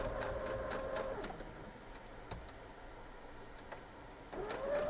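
Sewing machine stitching quilt block strips, a faint whirring run at the start and again at the end with quiet handling clicks between.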